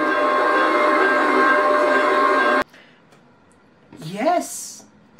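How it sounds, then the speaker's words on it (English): A train sound effect from a children's school-train lesson, a loud steady rumbling roar that stops abruptly partway through, followed by voices speaking. "it's our school train"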